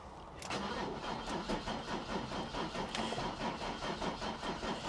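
Car engine cranking with a rhythmic starter churn that keeps turning over steadily for several seconds, close and fairly loud, trying to catch at an auto auction lot.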